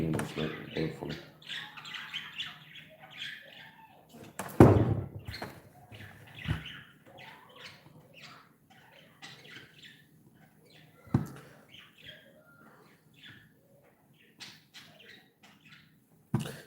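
Caged pet birds chirp and tweet in short, scattered bursts near the mic, with a person talking under and between them and a few sharp knocks.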